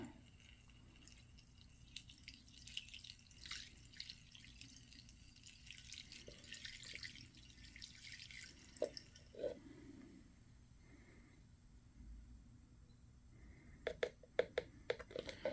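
Non-ethanol premium fuel mixed with two-stroke oil dribbles for a 1928 Maytag Model 29 engine, making faint, quiet drips that gather into a quick patter near the end.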